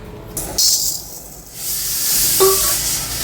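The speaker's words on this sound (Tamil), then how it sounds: "நம்ம முதல் இந்த பாசி பருப்பை நம்ம ஒன்றா வறுத்துக்கலாம்" Moong dal dropped into a hot pan to roast for sweet pongal, a sharp burst of hissing followed by a steady loud sizzle with a brief metallic scrape.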